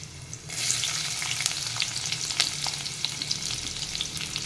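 Cumin, dried red chillies, bay leaf and onion hit hot oil in a pan with a sudden loud sizzle, then keep frying in a steady, dense crackle with occasional sharper pops, close and alone.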